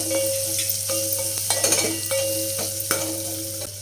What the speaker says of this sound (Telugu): ఒక ఆనియన్ పొడవుగా కట్ చేసుకోవాలండి దాంట్లో యాడ్ చేసుకోవాలి ఎక్కువ వేగక్కర్లేదండి కొంచెం కొంచెం ఎగితే సరిపోద్ది